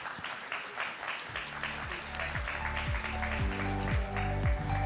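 An audience applauds at the close of a climate-emergency panel session, with steady clapping that swells slightly while a short musical jingle plays over it.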